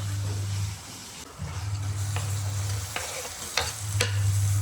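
Tomato and spices sauté in a pan for a cashew curry, a steady close sizzle under repeated scraping stirs and a few sharp utensil clicks, with no talking.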